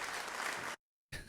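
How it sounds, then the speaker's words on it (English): Canned applause sound effect triggered by a button during a live stream, a brief burst of dense clapping that cuts to silence and then resumes abruptly, faint overall. "As I hit the applause button."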